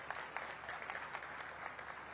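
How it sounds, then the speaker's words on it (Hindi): An indoor audience at an industrial festival inauguration claps steadily for a guest, a moderately distant, even patter of many hands with no voices over it. "आप तालियां बजाकर इनका स्वागत करिए।"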